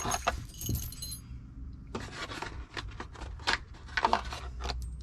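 Bolts and small hardware clink and rattle inside opened plastic packaging for an LED work light bar, close and crinkly, in a few short bursts separated by a brief quiet gap.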